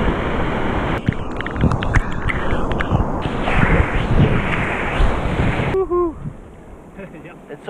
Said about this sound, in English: some of these waves are pretty big for me